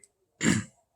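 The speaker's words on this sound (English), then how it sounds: "Excuse me, I have to cough." A single short, muffled cough or throat clear from an adult, close to the microphone, lasting under half a second in otherwise quiet surroundings.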